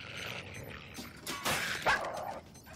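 Dogs bark and yip in an animated cartoon, a few sharp barks rising over steady background score, loud and close in a short burst.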